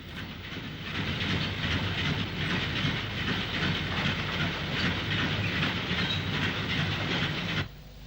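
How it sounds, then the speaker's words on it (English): An LMS Crab 2-6-0 steam locomotive, number 42812 of the 1926 design, draws a goods train into the sidings at Crewe South, with steady rumbling, clanking wagons and hiss that hold for about seven seconds and then cut off abruptly. "Crab 260 number 42812, an LMS design dating from 1926, arrives in the sidings at Crewe South with the goods"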